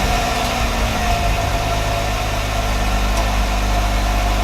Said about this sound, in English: Starts up, and it does have a V6 engine